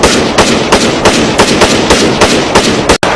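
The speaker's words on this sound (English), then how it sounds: "Shots are heard." Gunfire from a security incident in a hotel lobby at an annual dinner attended by 2,500 guests: a rapid series of about nine loud, sharp shots at a steady rhythm, ending with a brief silence.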